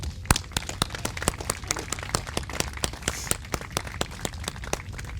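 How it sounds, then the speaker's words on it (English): An outdoor crowd at a Fairhaven Fourth of July celebration gives a round of applause, with loose, scattered claps that sound fairly near and carry on steadily for several seconds. "Let's give them a round of applause"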